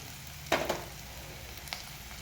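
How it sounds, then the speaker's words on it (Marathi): Curry leaves and chopped green chili hit hot oil with sautéed onions in a pan, giving a sudden close crackling sizzle that fades over a second, then a soft steady frying hiss with a small pop. "याच्यामध्ये ना एक मिरची मी चिरून घेतलेली आहे कढीपत्ता घालून घेऊया"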